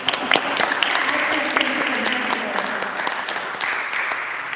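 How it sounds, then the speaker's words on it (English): People at a public meeting about street safety clap in a steady, moderately loud round, with a few voices mixed in beneath the clapping. "Can we get some applause for that?"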